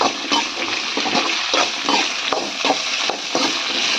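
Okra sizzles and crackles in hot oil with an irregular spattering texture, punctuated by occasional stirring clicks, close and fairly loud.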